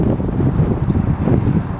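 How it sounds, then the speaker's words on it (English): Wind buffeting a microphone outdoors beside a new orchard being fenced, a steady low rumble with no one speaking. "Oh, it's windy."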